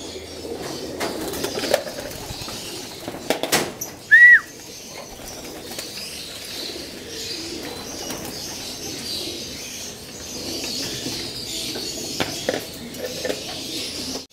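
Pigeons in a loft and aviary make soft cooing and sudden bursts of wing flapping, with a single sharp chirp partway through, against quiet handling noise and someone talking at times.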